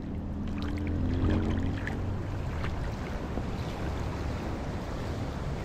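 A river rushes past as a loud, continuous wash of flowing water, with wind rumbling into the microphone and no voices.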